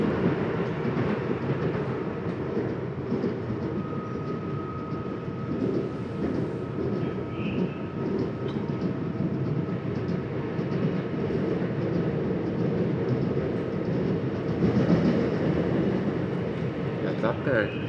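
A CPTM Line 11-Coral commuter train in São Paulo rumbles steadily along the rails, a continuous low roar from inside the carriage, with a brief thin squeal partway through.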